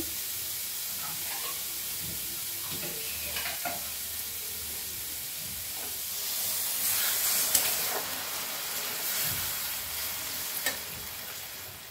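Water poured into a wok of frying banana stem with green chillies, a loud close hissing sizzle that swells midway into a burst of steam, with stirring scrapes underneath and no talk.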